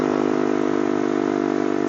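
A Yamasaki YM50 moped climbs a hill with its small engine buzzing loud and close, holding a steady high drone with a fast pulsing beat and no break.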